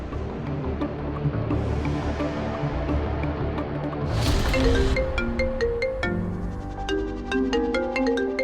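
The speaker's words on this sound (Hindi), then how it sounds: "ये लैंडलाइन पर तुम्हारे पापा का फोन आया है।" A landline telephone rings in a home, a steady electronic ring pattern that carries loud and alone for several seconds before shifting to a brighter repeating chime.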